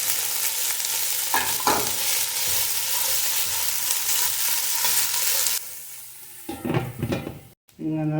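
Crushed garlic hitting hot oil in a frying pan while cooking chicken feet adobo, giving a loud continuous sizzle with scrapes of stirring. Partway through the hiss drops sharply, followed by a few clattering utensil scrapes.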